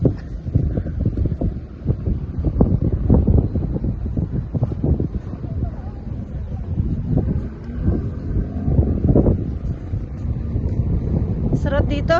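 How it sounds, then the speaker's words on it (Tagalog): Strong wind blows outdoors during a walk at SM Gen Trias in Cavite, buffeting the microphone with a steady low rumble throughout, with faint voices underneath. "Ang ano nga lang, ang lakas ng hangin."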